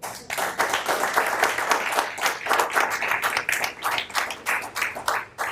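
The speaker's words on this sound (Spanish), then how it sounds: "Ahí cabía un aplauso." A congregation at a church service breaks into applause, a loud, sustained wash of many hands clapping that continues unbroken without talk.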